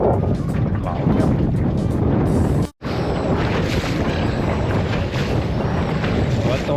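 Strong wind buffets the microphone as waves slap against a fishing boat out on a lake, a steady, loud roar with one brief dropout.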